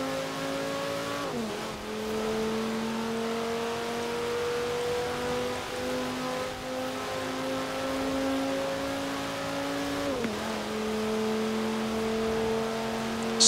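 A stock 2009 Audi RS 6 in Forza Horizon 4 holds a steady, droning engine note under load. The pitch climbs smoothly through each gear, then drops twice as slow gear changes shift it down.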